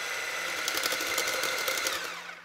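A Lidl kitchen blender whirs steadily at high speed while oil is added little by little to the bowl, a continuous close motor whine holding for a couple of seconds before easing slightly at the end.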